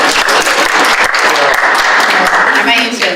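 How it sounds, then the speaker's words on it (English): Audience applause fills a school board meeting in Hillsboro School District, a dense, steady clapping from a crowded room lasting the full moment, fading slightly at the end. "we can applaud your attendance"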